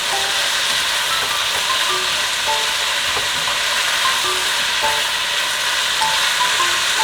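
Loud, steady sizzling of potato strips stir-fried with carrots in a pan, a dense crackling hiss with scattered light pops throughout and no voices.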